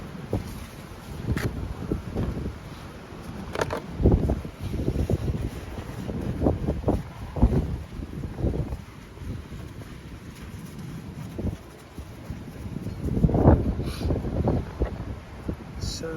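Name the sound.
storm wind noise on the microphone outdoors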